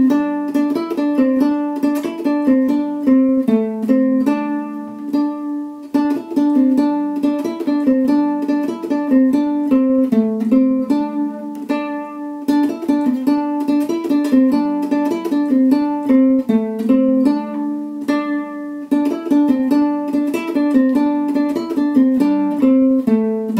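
Guitar solo from a song: a bright, clean guitar plays a repeating melodic figure of quick plucked notes in a steady rhythm, close and alone, for over twenty seconds.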